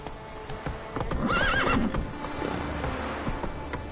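A horse in The Witcher 3 on PS4 clops along at pace with close, rhythmic hoofbeats, and a clear whinny rises over them midway.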